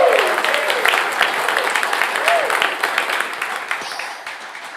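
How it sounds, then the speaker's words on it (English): A studio audience at a live radio show applauds for several seconds, a dense wash of clapping that gradually thins toward the end, with a few voices and whoops faintly underneath. "how about one more round of applause for Dallas Moore, the first half of the show?"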